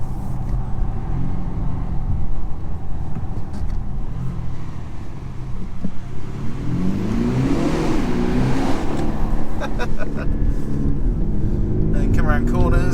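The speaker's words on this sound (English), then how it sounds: "Let's see what this fake noise sounds like from the outside." A 2021 Audi SQ5 diesel with synthesized engine sound, heard from outside as it drives and accelerates past, a loud rising engine drone with people talking throughout.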